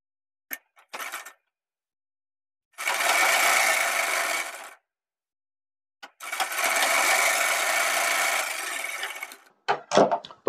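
A sewing machine runs in two sustained bursts, stitching a half-inch folded hem on a palazzo pant, with short clicks and handling noises between and after the runs, close and clear with no talking.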